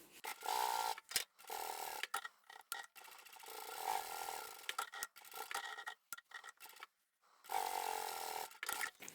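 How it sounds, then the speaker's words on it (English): A sewing machine top-stitches around a scrap-fabric shopping tote, running in several bursts of steady mechanical whirring separated by short pauses, close and fairly quiet with no talking. "we can take this back to the machine and we can top stitch around there"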